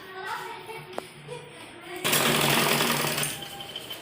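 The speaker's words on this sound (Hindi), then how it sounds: "यहाँ किनारे पर सिलाई लगाएंगे" A sewing machine stitches along the folded waistband edge of a churidar pajami, first a quieter stretch, then a loud continuous whirring run close by, with faint voices in the background.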